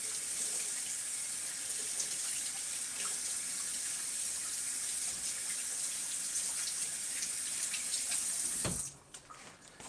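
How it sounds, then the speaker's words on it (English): Water runs steadily from a household tap as hands are washed at a sink, a constant close splashing flow that stops abruptly near the end, leaving quieter room sound. "Gotta wash my hands."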